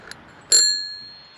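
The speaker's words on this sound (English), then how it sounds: "and we've got the bell." A single ring of the bell on an Aventon Aventure e-bike, one sharp metallic ding close to the microphone that rings out with a clear tone and fades over about a second, after a faint click.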